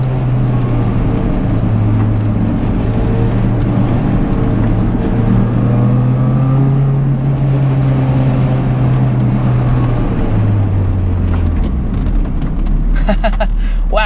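A 2000 Toyota MR2 Spyder's engine drones steadily as the car accelerates, a loud low hum rising and falling in pitch with road noise throughout, and a brief rattle near the end.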